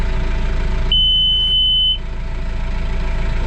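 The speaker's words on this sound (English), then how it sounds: "It's giving us a gate open alarm." A security monitor sounds a single steady high-pitched electronic beep for about a second as a gate open alarm, heard over a constant low engine-like hum.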